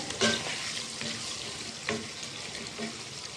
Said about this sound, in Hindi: अब इसे हम एकदम उतारते हैं, इसे हिला के देखते हैं।